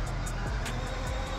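A Pagani Zonda supercar engine holds a loud, steady roar at close range, dense and unbroken for a brief moment, with no voices over it.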